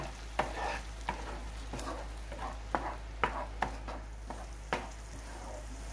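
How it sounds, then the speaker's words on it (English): Tomato puree cooking down in a pan after browned onions, for a cauliflower masala: a steady low sizzle broken by repeated scraping stirs of a spoon, close and moderately loud, with no voices. "We'll add this tomato puree and cook this puree till it leaves the pan."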